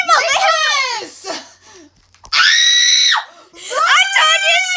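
A girl screams loudly in a long sustained shriek, bracketed by bursts of excited children's voices and giggling in a noisy play setting.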